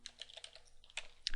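Rapid keystrokes on a computer keyboard as a yum install command is typed, a quick irregular burst of soft clicks close up and quiet with no talk.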